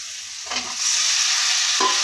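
Potatoes added to a hot pan with spices for a potato fry, a loud close sizzle of frying with stirring scrapes, no talking.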